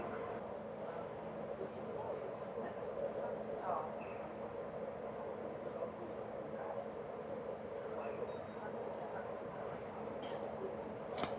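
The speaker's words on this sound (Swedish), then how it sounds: "nu kommer nattåget 91" Night train 91 rumbles into Hallsberg station in Sweden with a low steady drone and faint squeals, heard from a distance.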